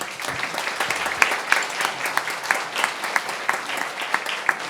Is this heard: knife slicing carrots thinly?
no